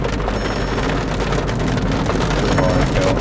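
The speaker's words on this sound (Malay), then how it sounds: "Hujan tu kan lebat." Heavy downpour over Kuala Lumpur, a dense steady hiss of rain drumming on surfaces, loud and unbroken throughout with no voices.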